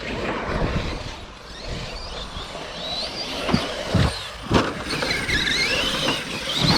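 Serpent MT radio-controlled car running on a track, its small motor whining with tyre squeals and a few louder surges as it passes, over a constant outdoor background.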